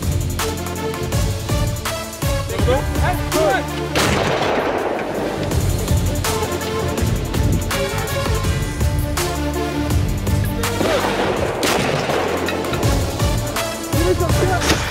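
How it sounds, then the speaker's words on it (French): Guns fire at a firing range at a military camp in Montmagny. Loud, dense volleys of shots and echoing bangs continue without a break throughout. "Puis quand il dit feu, on tire comme ça."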